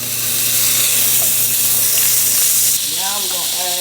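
Butter sizzling in a hot pan alongside browned short ribs, a loud, dense hiss up close that cuts off near the end into a brief stir or clatter.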